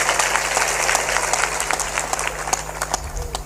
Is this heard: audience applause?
yes